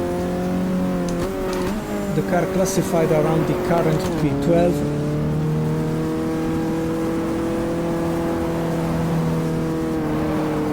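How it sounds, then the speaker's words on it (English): Race car engine in GTR2 at Fuji Speedway, held steady with gear changes kept short to spare an overheating engine, a loud continuous drone under a voice talking throughout. "I'm overheating the engine, so we'll start to do a short shifting"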